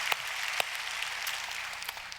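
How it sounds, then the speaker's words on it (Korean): A congregation at a church service gives a short round of applause, a fairly faint, even patter of many hands with a few sharper claps standing out. "우리 좋으신 하나님께 다시 한번 박수로 감사하겠습니다"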